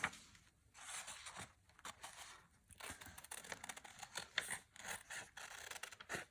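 Scissors snip steadily through a paper flower pot template, the blades closing in a quick, uneven run of crisp cuts and faint paper rustles, close and fairly quiet with no talk.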